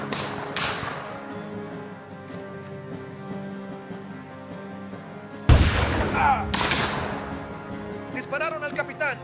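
Gunfire cracks during a frontier battle at Fort Ridgely as men move down a river toward the fort, a few sharp, loud shots spaced apart over a rumbling background with voices talking.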